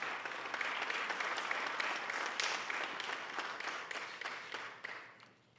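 Audience at a poetry reading at a literary seminar in Key West applauding, dense steady clapping from a crowd that holds loud and then tapers off near the end.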